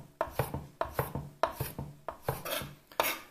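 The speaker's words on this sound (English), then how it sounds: "just add a bit of orange zest into these sorts of dishes" Orange zest is grated with quick rhythmic rasping strokes, about a dozen scraping passes in a steady pattern, close and fairly quiet, with no talking.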